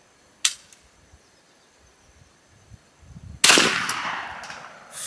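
AEA Harpoon .50 caliber air rifle fired at a range: a sharp short crack early on, then a louder blast with a lingering decay a few seconds later, with quiet background between.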